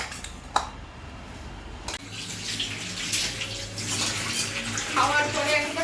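Tap water runs steadily into a kitchen sink during washing and scrubbing, starting after a couple of sharp knocks and continuing as a close, constant splashing stream with some clatter.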